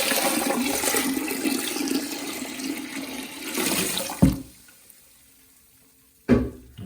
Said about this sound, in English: And flush it again.